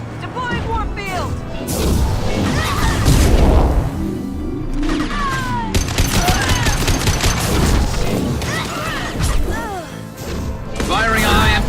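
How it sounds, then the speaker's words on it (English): Gunfire in the video game Mass Effect 2, a busy stretch of combat with repeated shots and impacts. Voices and other game sounds run under it throughout. "Firing a high-impact shot!"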